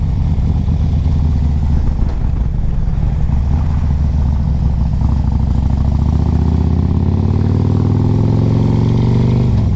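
A 2005 Harley-Davidson Electra Glide Classic with a 1550 big bore kit rumbles loudly and steadily up close, its pitch rising as it revs and accelerates.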